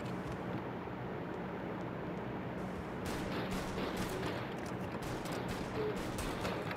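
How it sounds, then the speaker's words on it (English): A Tommy gun fires in bursts in a video game, rapid cracks layered over a constant noisy wash of background game sound, with the sharper volleys coming in the second half. "Tommy gun."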